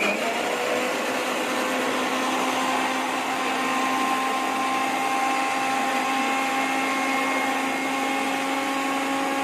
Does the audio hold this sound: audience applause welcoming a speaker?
no